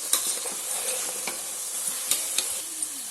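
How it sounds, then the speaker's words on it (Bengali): Soaked chana dal and chopped bottle gourd go into a hot pan of browned onions, setting off a loud close sizzle with repeated stirring scrapes and small crackles, no voices. "লাউটা দিয়ে দিচ্ছি। প্রথমে ছোলার ডালটা দিয়ে দিচ্ছি, ভিজিয়ে রেখেছিলাম ছোলার ডালটাকে।"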